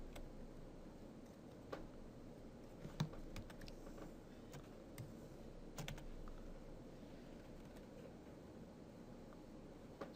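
Light typing on a computer keyboard during a digital painting session: soft, irregular key clicks in a quiet room, with a few sharper taps spaced across the stretch and no talking.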